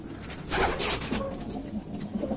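Domestic racing pigeons cooing softly in a breeder's loft in the morning, low murmuring coos repeating throughout amid faint background noise.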